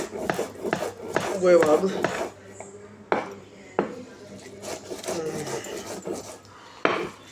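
Salt for pahadi namak is ground by hand on a stone silbatta slab, with rough rasping strokes and stone clacks repeating close up while someone talks over the work.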